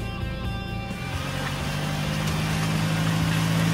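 A small Suzuki crossover in automatic all-wheel drive climbs a trail hill, its engine droning steadily with a sustained tonal hum that rises slightly as it pulls up the slope, close and fairly even.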